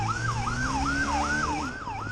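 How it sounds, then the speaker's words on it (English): A police siren on a Honda motorcycle in a Brazilian favela chase wails in a steady rising-and-falling cycle, loud and close, with an engine rumbling beneath it and no talk. "Officers hit the lights, and the second that siren cuts through the air"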